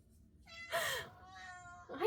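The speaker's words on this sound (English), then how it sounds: "oh, I just heard my cat." A pet cat meows twice close by indoors, a drawn-out cry followed by a shorter one, with a quiet room and light rustling underneath.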